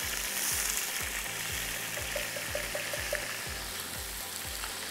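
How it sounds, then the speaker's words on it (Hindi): Onion and garlic sautéing in a pan give off a steady, close sizzle, broken by a regular rhythm of stirring scrapes and no voices. "सो एक पैन में आपने प्याज और लहसुन को सौते किया"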